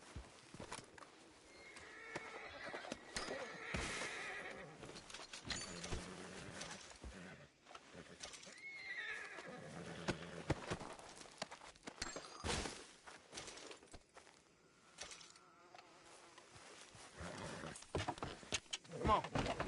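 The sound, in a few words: horse neighing and galloping in the video game Red Dead Redemption 2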